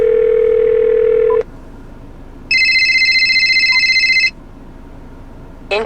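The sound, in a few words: phone ringtone played over 2017 Subaru Outback car speakers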